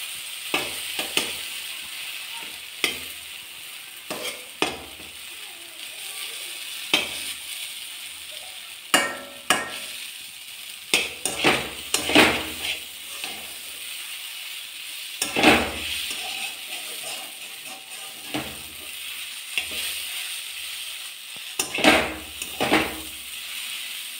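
Semolina (suji) roasts in a pan with a splash of water, giving a soft continuous sizzle under repeated scraping strokes of a spoon stirring it, close and fairly quiet with irregular louder scrapes.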